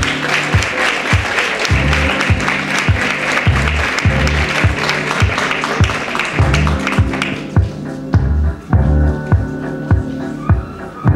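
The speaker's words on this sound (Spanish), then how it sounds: "Un aplauso." Sustained audience applause at a tribute ceremony for the Spanish cancer association in Marbella, loud and dense at first, then thinning toward the end, with rhythmic claps throughout.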